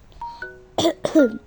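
Two short, rough coughs close to the mic, preceded by a couple of faint tonal beeps.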